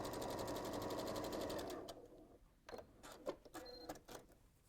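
A sewing machine stitches quilt pieces for a Moda Cranberries & Cream quilt, running in a steady fast rhythmic whir for about two seconds and then stopping, followed by quieter handling clicks and rustles of fabric.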